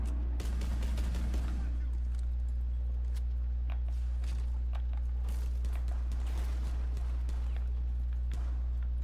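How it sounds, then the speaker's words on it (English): Scattered gunshots from an online shooter game crack faintly and sporadically over a constant low hum, mixed with quick footsteps and muffled game sounds, with a player's voice briefly audible at the start. "Shots are coming from somewhere."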